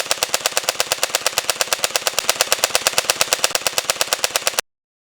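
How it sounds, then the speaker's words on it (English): Rapid full-auto gunfire from a VR game played with Quest 3 haptic gun stocks, a steady, evenly spaced stream of sharp, loud shots that runs for several seconds and then stops abruptly. "Then you go in full auto mode."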